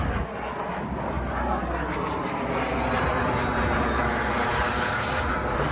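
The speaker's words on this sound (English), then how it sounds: "Got their Lear jet out, going for a space cruise." A Lear jet flies over a house with a loud, steady roar that swells slightly as it passes overhead, continuous throughout with no break.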